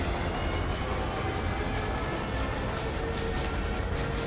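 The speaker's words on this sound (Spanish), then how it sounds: "Esto te parte en dos en nada el helicóptero este." A helicopter in Metal Gear Solid V drones with a constant dense rumble and whir throughout, loud and steady, with faint brief clicks near the end.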